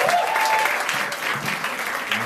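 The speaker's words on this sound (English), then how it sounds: "Give another round of applause for your host and MC for tonight," Live comedy-club audience applauding and cheering for the host and MC, a dense, steady wash of clapping throughout with a brief whistle near the start.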